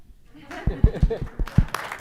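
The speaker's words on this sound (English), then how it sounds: "Yes, you can clap." A short burst of scattered clapping and light laughter from a small group at a city council meeting, a few sharp claps standing out over murmuring voices.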